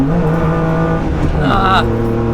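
Race car engine at full throttle on a Nürburgring lap, a loud close-up roar that dips as a gear is shifted and then pulls hard again.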